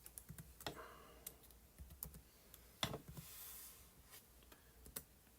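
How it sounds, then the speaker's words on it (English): Quiet typing on a computer keyboard, a steady run of light, irregular clicks and taps with a few louder keystrokes, heard alone without talk. "Going to simply type in"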